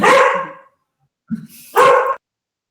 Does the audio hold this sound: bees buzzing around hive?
no